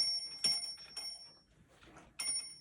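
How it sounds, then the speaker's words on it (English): A small alarm clock bell is struck by its little hammer in a few sharp, ringing hits with bright lingering tones and short pauses between them, close and fairly loud. "that's the little hammer that makes the sound"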